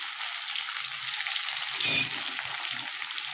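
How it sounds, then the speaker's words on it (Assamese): Onions dropped into hot oil already seasoned with sugar, five-spice and dried red chili, giving a steady close sizzle and frying hiss with a brief louder burst as they hit the pan. "এতিয়া দিম পিঁয়াজ"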